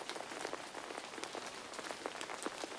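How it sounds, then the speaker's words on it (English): Rain patters steadily on an umbrella, a dense, even spray of small drops close by, with no voices. "The rain pitter-pattered on the material of the umbrella, and Koko felt very cosy beneath it."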